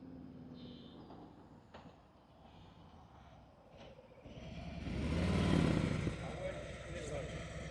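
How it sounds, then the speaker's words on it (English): A motorcycle engine during an advanced slow-speed riding practice session in Tennessee, idling low and then revving up to a louder swell before settling, heard at a moderate distance while someone talks over it. "then I heard you rev the bike up"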